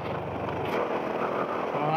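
A motorcycle rides along a bypass road in Quezon, its steady engine drone holding close and continuous throughout with little change in pitch.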